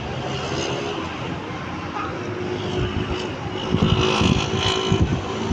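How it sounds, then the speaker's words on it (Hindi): A metro bus passes by on a street in Peshawar in rainy weather, its engine and road noise swelling louder in the second half amid steady outdoor traffic rumble. "और फिर गाड़ी आ रही है, मेट्रो गाड़ी देख रहे हो।"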